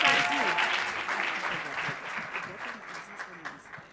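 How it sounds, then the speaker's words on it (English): An audience at a women in media and communication speed mentoring event claps for a woman mentor as she is called up, steady dense applause that slowly thins toward the end, with voices chattering underneath. "She deserves a big round of applause."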